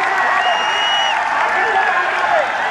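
A crowd at a village match in Bugrasi claps steadily, a dense continuous wash of applause with voices and shouts mixed in.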